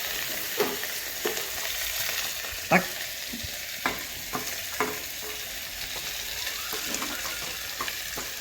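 Onion frying and being stirred slowly in a pan, a continuous sizzle broken by occasional scraping knocks of the spoon against the pan.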